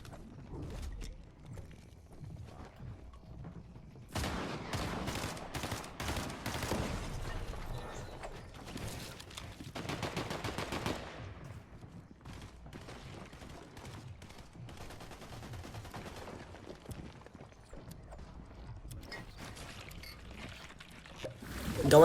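Video game gunfire from a competitive Victory Cup match rattles out in rapid, dense bursts through the middle of the stretch, fairly loud, then thins into scattered shots against a steady background.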